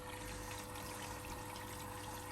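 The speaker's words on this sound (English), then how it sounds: "So it's doing its Aqua Plus fill now" A Hoover Link washing machine fills with water on its Aqua Plus cycle, a steady hissing rush of incoming water with a low pump hum, constant and fairly close, with no talking.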